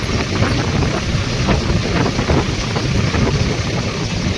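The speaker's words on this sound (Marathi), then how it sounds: "हे बघा इथं पाणी चालू आहे." Water flowing in a river in open countryside, a dense steady rush mixed with wind buffeting the microphone, loud and continuous with no talk.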